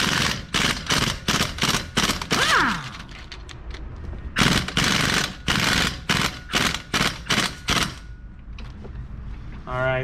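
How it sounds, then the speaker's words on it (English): An impact gun works on the front hub bolts of a Ford Fusion, firing rapid loud bursts of hammering rattle in short repeated bursts with pauses, close by in a garage. "you can get it with a breaker bar or a impact gun"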